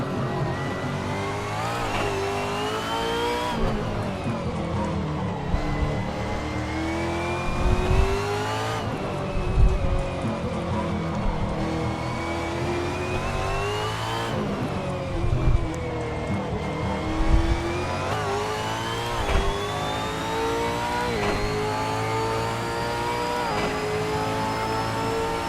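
A Dallara IR-18 race car engine in Assetto Corsa at the Adelaide street circuit revs high and loud, climbing through the gears with sharp shift drops every few seconds, close and continuous throughout.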